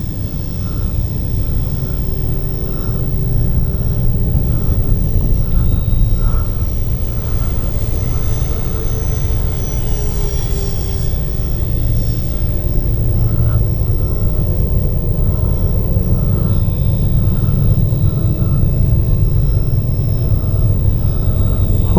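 A FlightLine RC OV-10 Bronco model airplane cruising overhead, its electric motors giving a steady droning whine with a faint shifting tone, continuous and fairly loud against a low wind rumble.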